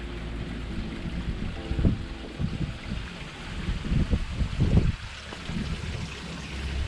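Water draining from the black tank of a Georgetown Class A motorhome while it is being winterized, a continuous gurgling rush with irregular surging splashes and a mechanical hum underneath, steady and close.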